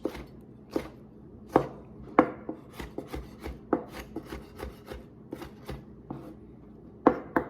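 A dull kitchen knife chops tomatoes on a cutting board for a breakfast burrito, about a dozen irregular thunking strokes close by with one sharper hit near the end, and no voices.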